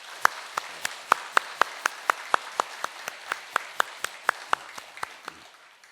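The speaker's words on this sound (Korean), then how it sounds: "찬양대회에서 격려의 박수 한번." Church congregation clapping in encouragement for its choir, a steady rhythmic beat of single claps, roughly four per second, ringing out clearly in a reverberant hall with no talk.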